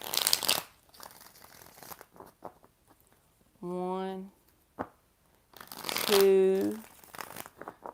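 Tarot cards being shuffled in two quick, crisp bursts of riffling, one at the start and one near the end, with a voice counting in between.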